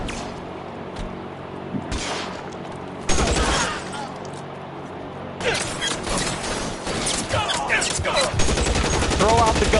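Gunfire erupts in L.A. Noire in scattered bursts and volleys, sharp repeated shots between quieter gaps, growing denser in the second half, with brief speech mixed in.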